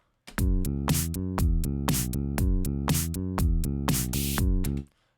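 A punchy electronic drum beat from GarageBand's Epic Electro kit loops with bright synthetic hits and heavy bass tones, loud and steady for about four seconds, then stops abruptly.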